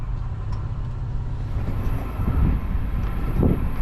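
A freight train climbs Cajon Pass around Sullivans Curve, a low continuous rumble of rolling cars heard from trackside with wind buffeting the microphone and a few heavier thumps as wheels pass.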